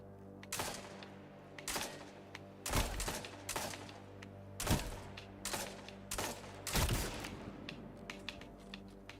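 Bursts of gunfire from the Meta Multi-Tool gun in Destiny 2 crackle in a rapid irregular series of sharp shots, about a dozen clustered pops spread over several seconds, fairly quiet and without talk.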